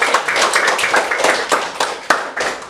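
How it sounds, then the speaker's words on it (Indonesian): A school class applauds during a Friday-prayer religion lesson, a short burst of close, fairly loud hand clapping with uneven rhythm and a few sharper individual claps, no talking. "tepuk tangan dulu semua"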